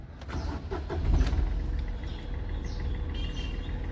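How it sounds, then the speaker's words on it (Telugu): A 2012 Chevrolet Beat hatchback in excellent condition cranks and catches, then settles into a steady, moderately quiet idle, heard close with no talking. "వెహికల్ స్టార్ట్ చేస్తున్నా"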